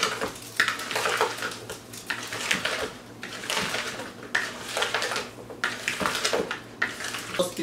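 A sauce with chicken broth and nutmeg being stirred in a pot, giving repeated scraping and clinking of a utensil against the pot in steady bursts, fairly close, with no talking.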